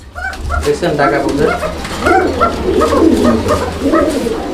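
Pigeons at a pigeon farm coo and flutter in a busy, close chorus, with a dog whimpering and barking mixed in among them.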